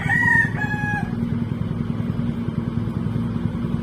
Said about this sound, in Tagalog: Daming manok talaga kahit saan.